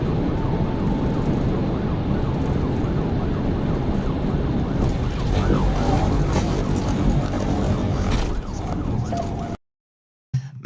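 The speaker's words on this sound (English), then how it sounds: "the squad car is going so fast that the sound of the engine almost completely drowns out the siren" A police squad car races at high speed, its loud engine roar almost swallowing the wailing siren that rises and falls beneath it, all continuous until the sound cuts off abruptly near the end.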